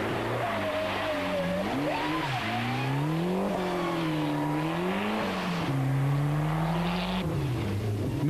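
A Ford rally car in the Eifel Rallye drives hard with a loud, close engine, its pitch rising and falling through gear changes and revs, plus a steady roar and faint tyre noise throughout.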